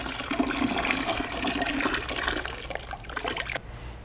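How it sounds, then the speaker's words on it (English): Water pouring into a plastic wine fermenter to rinse the juice bag for a fruit wine kit, a steady close splashing and gurgling fill that stops abruptly near the end, with a faint room tone after. "So you can see I put a little bit of water in here. We'll use that to rinse out more of the juice."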